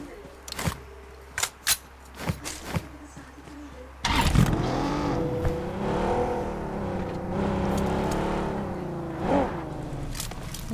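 A few sharp clicks and jingles like keys come first, then a car engine cranks and catches, settling into a loud, close idle that swells with revving as the car pulls away.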